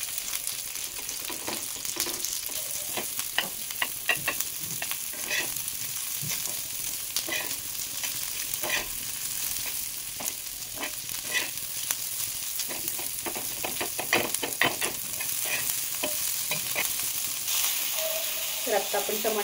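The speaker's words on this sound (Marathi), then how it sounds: "आणि याला तेलामध्ये छान असं फ्राय करायचं आहे." Three small chopped onions frying in hot oil in a home kitchen pan, a steady close sizzle with frequent crackles and pops running throughout, joined near the end by a brief clink of utensils.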